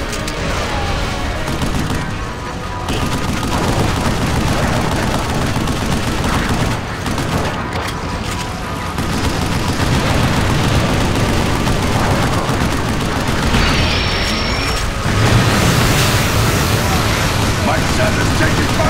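Heavy gunfire in the Vanquish video game, a loud, dense and continuous barrage of shots and blasts running the whole way through, with voices talking over the combat.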